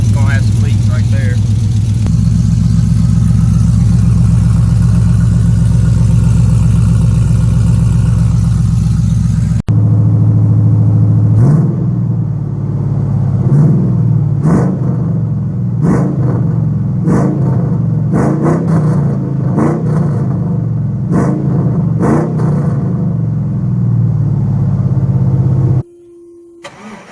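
A 5.3 V8 in a 1992 Chevy Silverado runs loud and close with an unclamped, leaking header, giving a steady heavy rumble that shifts to a choppier, ticking idle partway through before cutting off near the end.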